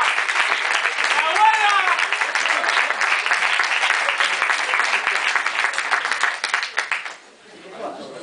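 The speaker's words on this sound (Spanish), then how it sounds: "Fuerte aplauso" An audience applauds the makeup artists of a short film at its premiere screening, steady dense clapping for about seven seconds that then thins out and fades.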